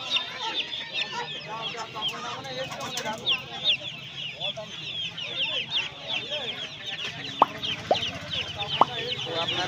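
A crowd of chickens clucks continuously at a busy weekly poultry market in Uluberia, with occasional sharper calls near the end and faint voices in the background.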